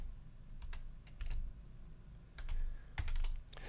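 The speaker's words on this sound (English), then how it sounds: "begin typing in our analysis." Bursts of keyboard typing, clicking keys in irregular clusters with short pauses between, close and fairly clear against a quiet background.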